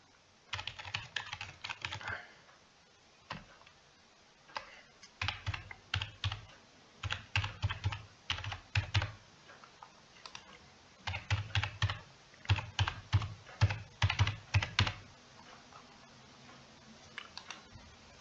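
Keys clatter on a computer keyboard as an Aadhaar number is typed into an online form, quick close bursts of clicks separated by short pauses.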